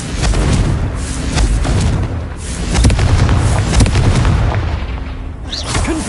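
Repeated Confringo fire spells burst in a Hogwarts Legacy battle, a dense run of loud booming explosions and impacts layered over one another for several seconds with no pause.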